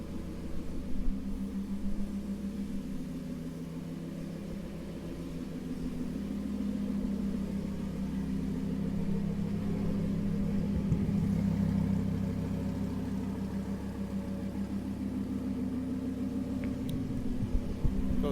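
A Lamborghini Huracan 610-4 engine idles close by with a steady, deep rumble that holds evenly for a long stretch, with a few faint blips near the end.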